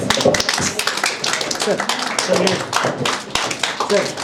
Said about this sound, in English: Next up, a round of applause, please.